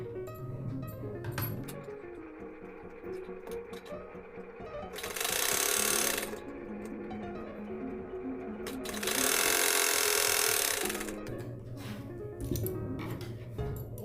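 A sewing machine stitches a blouse seam in two steady bursts of close, loud mechanical whirring, each a second or two long, with quieter fabric handling and clicks in between.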